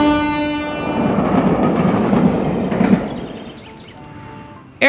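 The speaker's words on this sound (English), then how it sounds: "Train." A train sounds a long, loud horn blast over the rolling rumble of passing rail cars, and the din fades toward a quieter clatter near the end.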